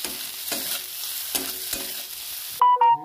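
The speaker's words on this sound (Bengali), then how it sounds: "এবার এর মধ্যে ধনে পাতাগুলো দিয়ে দেবো, ভালো করে নেড়ে নেব।" Onion and fresh coriander leaves stirred in a frying pan, a steady sizzle with a few soft spatula scrapes, close and alone, before a brief clink at the end.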